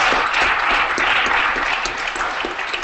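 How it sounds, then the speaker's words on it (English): A crowd at a web development talk applauds a speaker, a loud, dense burst of clapping that holds steady for the whole stretch with no speech over it. "let's give him another round of applause"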